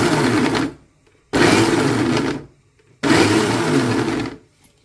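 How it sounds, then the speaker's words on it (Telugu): Mixer grinder pulsing onions and spices for dondakaya ulli karam: three loud, close whirring bursts of about a second each, separated by brief silent gaps. "ఇలా పల్స్ మోడ్లో 2 to 3 టైమ్స్ పల్స్ చేస్తే ఇలా కన్సిస్టెన్సీ వస్తుందండి"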